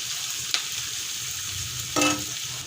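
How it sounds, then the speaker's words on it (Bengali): Onions fry slowly in hot oil, giving a steady soft sizzle with a couple of brief louder crackles as they are stirred, no voices over it. "এখন আমি আস্তে আস্তে করে পেঁয়াজগুলো ভেজে নেব"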